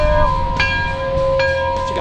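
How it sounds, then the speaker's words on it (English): A bell rings out with a sustained ringing tone, struck again a couple of times, loud over a low background rumble. "Somebody ring the bell."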